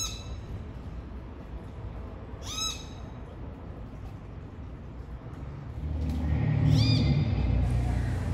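Birds calling near a beach close to Playa del Carmen, heard as a few separate loud cries over a steady background of rushing wind or surf.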